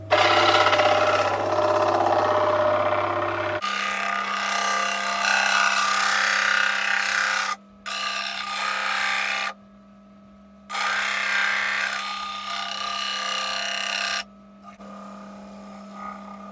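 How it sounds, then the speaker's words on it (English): A Record Power woodturning lathe spins a wooden piece while canoe wax is pressed against it. A steady motor hum runs beneath loud, broadband rubbing bursts that stop for a few seconds and then start again. "I'm going to dress it with this canoe wax."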